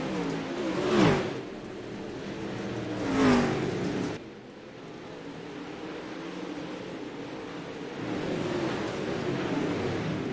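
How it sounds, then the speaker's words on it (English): Pro Stock dirt late model race cars roar past on a raceway track in two loud pass-bys with rising and falling pitch, then a steady engine drone continues in the background. "actually hearing these cars on the track"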